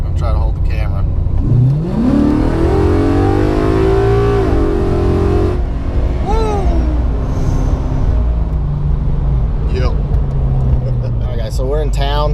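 Low rumbling V8 Mustang engine with a Coyote swap revving and cruising in town, idling at a traffic light, loud and close from inside the cabin, with a voice talking over it.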